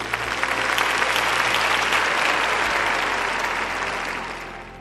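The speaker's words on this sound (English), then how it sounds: "can we just give that a round of applause?" Audience applause in a hall, a short burst of steady, dense clapping that swells and then fades over about five seconds, with no one speaking over it.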